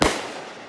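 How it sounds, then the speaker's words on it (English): A single firework bursts in a backyard, a sharp loud bang followed by a crackling, fading tail that lingers briefly. "Fireworks."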